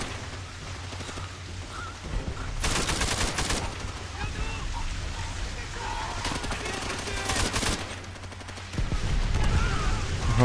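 Gunfire from a Call of Duty: World at War mission, with rapid bursts of automatic fire in several loud clusters over steady battle noise, and a player talking over it.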